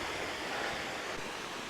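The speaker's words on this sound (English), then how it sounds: "Some lovely wee waterfalls and stuff." Small waterfalls tumble along a burn on an open Scottish hillside, a steady, faint rush of falling water with no voices.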